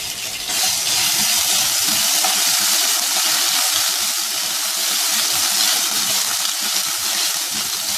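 Cumin seeds and garlic-ginger paste fry in hot oil in a pan, giving a loud, continuous sizzling hiss that stays close and steady, with faint low bubbling beneath it.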